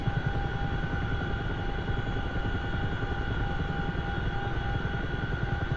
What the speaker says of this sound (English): There's a lot of aircraft flying around